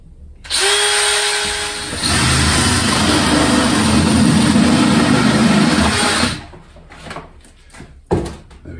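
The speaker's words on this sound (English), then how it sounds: "I need to drill a hole in here so that I can get the cable through" A power drill whirs loudly for about six seconds as it bores a cable hole through a plastic LED propagator, then stops, followed by a few light clattering handling sounds.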